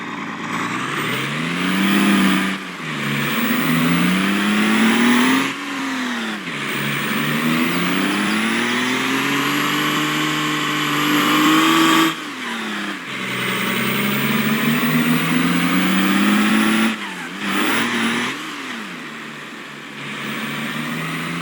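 Truck engine in Farming Simulator 22 drives steadily, its pitch rising and falling with repeated gear shifts and revs, loud and continuous with brief dips between runs.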